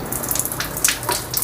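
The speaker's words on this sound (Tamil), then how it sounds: "இப்போ பார்த்தீங்கன்னா பச்சை தண்ணி வந்துட்டு இருக்கு" Cold tap water gushes steadily through a cheap electric instant water heater that is still switched off, a close, continuous splashing flow with a few brighter spurts.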